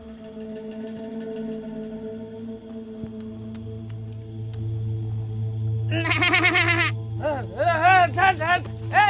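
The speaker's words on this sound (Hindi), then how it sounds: "किसका बकरी है रे?" A goat bleats several times in a rural Indian village, the wavering cries loud and near in the second half, over a steady low hum with faint voices before.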